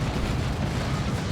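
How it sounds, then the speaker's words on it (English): Lascannon fire in Warhammer 40,000: Dawn of War 2 blends into a thick, steady wall of explosive booms and rumbling battle noise, loud and unbroken for the short stretch. "Las Cannon gets some decent shots in"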